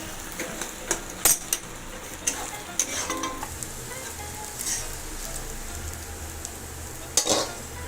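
A fried egg is lifted from a hot oil-filled pan, bringing a soft steady sizzle broken by sharp metallic clicks and scrapes of a spatula against the pan at irregular intervals.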